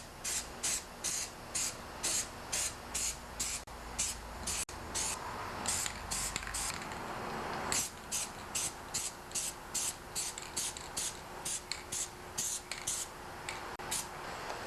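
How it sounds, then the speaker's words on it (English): John Deere paint sprayed from a rattle can onto a small area of a John Deere 316 tractor during restoration: repeated short hissing bursts in a steady rhythm, close and fairly loud, with brief gaps between each spray. "for this small area here I'm just going to coat it with the JD paint"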